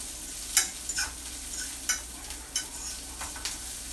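Meat for a chopped cheeseburger sub browns in a pan, a bright steady sizzle with a handful of sharp spatula scrapes and chops spaced through it, close by, no voices.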